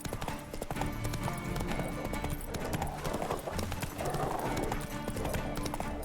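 Steady clip-clop of horse hooves at a walking pace in The Witcher 3: Wild Hunt, fairly faint and continuous, with no voices.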